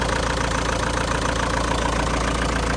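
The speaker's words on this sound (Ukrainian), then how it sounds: "Так, працює двигун." A diesel engine idles steadily with a dense, rattling rumble, close and constant throughout, with no voices. The engine is the 1.9 multijet in a 2007 Fiat Doblo Maxi.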